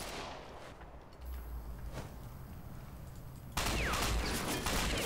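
Distant gunshots in the online shooter Ghost Recon Online: a few scattered, faint cracks spread across a quiet, hissy background, with a louder noisy wash near the end.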